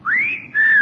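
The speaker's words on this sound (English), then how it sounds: "I find that whistle intensely objectionable, young man." A single person whistles two short rising-then-level notes, loud and close, with a brief gap between them and no talk over it.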